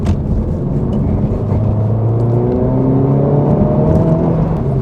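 A 2024 Honda Civic Type R driving steadily, its engine a loud, close whir with pitch rising gradually as it accelerates, heard alone without voices.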